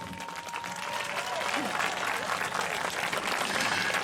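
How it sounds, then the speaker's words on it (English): A crowd at the Trans Pride March in Melbourne breaks into applause: clapping builds quickly and then holds full and steady, with scattered cheers and voices mixed into the outdoor crowd. "let's give them a round of applause"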